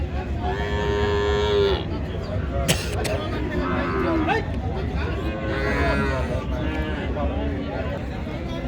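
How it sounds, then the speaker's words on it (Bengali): Cattle moo repeatedly, some calls loud and near, others farther off, amid the crowd chatter and hubbub of a cattle market at Ambari haat in Dinajpur. "আজকে তো গরু প্রচুর ছিল"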